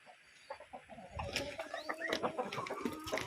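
Chickens clucking close by, several birds with irregular short clucks, growing busier and louder after the first second.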